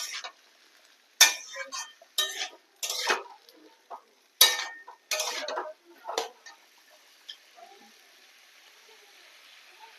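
A spoon stirs food in a pan after salt goes in, making a handful of close, sharp scraping bursts separated by brief quiet gaps, then fading to near silence.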